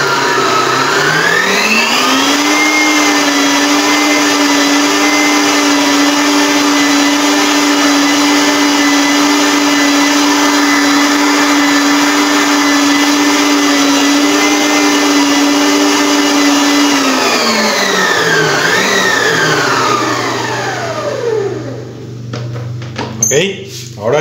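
An electric mixer beats eggs into batter for a homemade English fruit cake, winding up to a loud, steady whir that holds, then slows and winds down, with a few clunks at the end.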